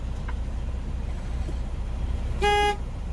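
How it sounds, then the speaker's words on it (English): A low truck engine rumble idles steadily, then one short, loud blast of the truck's horn sounds close by, heard from inside the cab. "City horn, air horn are working properly."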